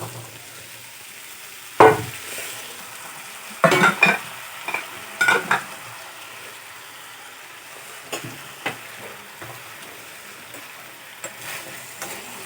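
Potatoes and green peas for curry sizzle softly in a pan while a spoon stirs and scrapes in several sharp bursts, with quieter clinks between them.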